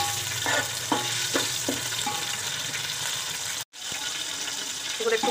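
Bay leaf and whole spices frying in white oil in a cooking pot for biryani, a steady close sizzle with a few light stirring knocks and a brief dropout partway through.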